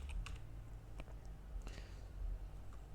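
Typing on a computer keyboard while coding an Arduino sketch, a few scattered soft clicks over a steady low hum, faint and sparse rather than a continuous run of keystrokes.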